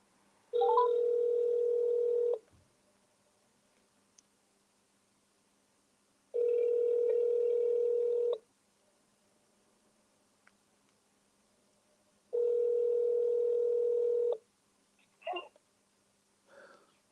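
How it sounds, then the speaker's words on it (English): Telephone tones on a call being placed, three long steady tone bursts of about two seconds each separated by silences, followed by a couple of short faint blips near the end. "I'll just see whether I can dial Emma in and get her question answered"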